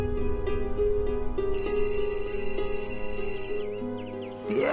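A phone rings during an outgoing call, its steady tonal ringback-style melody running the full length with a bright high tone joining partway, heard alone without voices.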